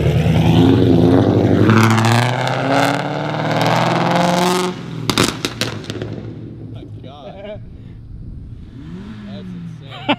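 Exhaust of a Ford Mustang S550 with a Mafia Tommy Gun tune, a loud roaring rev followed by a series of sharp, close crackling pops and bangs as it shoots flames, with people talking and exclaiming excitedly over it.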